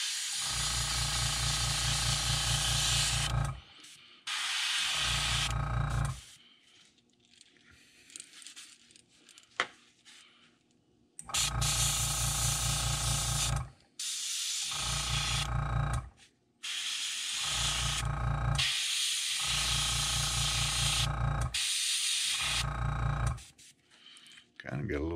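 An airbrush sprays paint onto a crankbait fishing lure in a series of steady hissing bursts, loud and close, separated by quiet gaps where faint handling sounds and soft speech come through.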